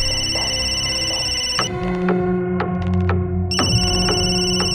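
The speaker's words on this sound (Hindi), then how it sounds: "पृथ्वी 2 मिनट लगते हैं फोन उठाने में" A telephone rings loudly and close with repeated electronic bell-like trills in regular bursts, heard alone without talk, in a Hindi crime drama scene.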